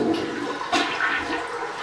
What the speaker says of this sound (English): and then when you flush